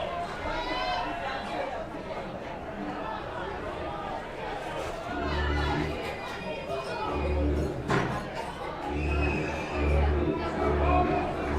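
A baseball stadium crowd cheers and chatters with the fans on their feet, a steady broad roar of many voices filling the ballpark, with louder swells near the end.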